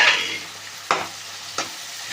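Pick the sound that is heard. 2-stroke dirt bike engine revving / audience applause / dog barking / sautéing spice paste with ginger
sautéing spice paste with ginger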